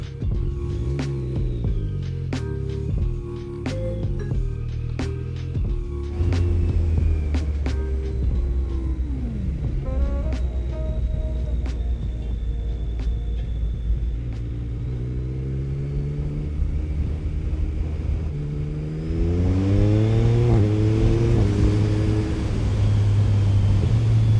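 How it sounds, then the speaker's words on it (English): A Yamaha MT-09 SP motorcycle with a baffle in its exhaust idles and revs repeatedly in a low, muffled rumble, throttle rising and falling, close by with no talking. "just so much quieter with the baffle in this exhaust"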